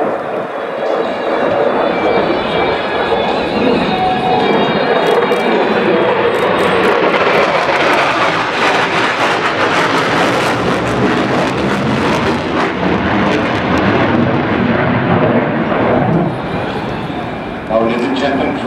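Military aircraft flying past at the Aero India 2017 air show in Bengaluru, a loud, sustained engine roar that swells and holds for most of the pass under a public-address commentator's voice.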